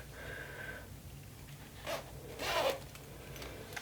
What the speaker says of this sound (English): I'd rather zip it up a few times until I get it perfect